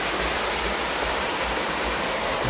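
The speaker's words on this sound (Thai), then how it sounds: "มีน้ำตกนะครับ" A waterfall at Phu Dan Hai, Kuchinarai, Kalasin, Thailand, roars steadily, a broad, constant rush of falling water filling the whole clip with no other sounds.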